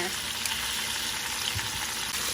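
Breaded chicken fried chicken sizzles in hot oil in a pan, a dense, continuous crackle that stays loud and close with no talking.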